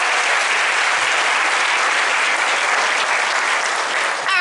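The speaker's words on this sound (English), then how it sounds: "Can we get a nice round of applause for our classroom teachers for working with us?" Loud, steady applause from a crowd at a second-grade holiday program, sustained clapping throughout with no talking, easing slightly near the end.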